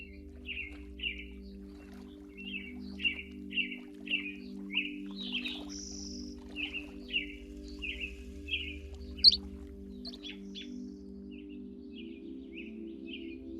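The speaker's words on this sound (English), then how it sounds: "Birds can chirp, and you can keep quiet" Birds at Lake Moraine give short, repeated chirps at a steady pace, fairly faint and at a middle distance, over a low, constant hum.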